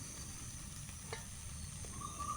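Fried meat pieces being added to a sizzling spice paste for Bengali meat curry, giving a steady low hiss with a few soft stirring scrapes and clinks, no talking.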